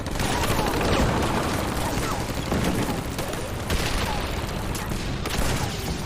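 Dense, continuous night tank battle noise: rapid gunfire crackles and bursts over rumbling explosions and shell bursts, loud and chaotic without pause.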